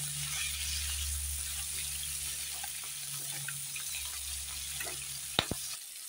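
Fish frying in a pan for a potato and fish curry, a steady soft sizzle with a low hum running throughout, and a couple of brief sharp clatters near the end.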